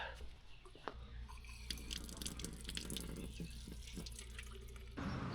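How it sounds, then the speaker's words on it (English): Water trickles and drips steadily from an outdoor fountain in Mallorca, a soft continuous splashing with scattered louder drops, quiet and close. "Virgin Mary is giving us some water"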